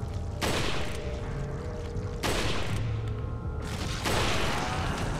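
Loud gunshots fired at an enemy in the video game Resident Evil 4, three heavy booming blasts roughly two seconds apart, each trailing off into a rumbling game backdrop, with no talk.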